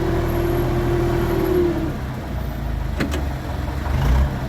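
A tractor engine runs near and loud during haying as the tractor reverses, with a steady mid-pitched drone and a tone that drops partway through, then a brief clank before it keeps rumbling.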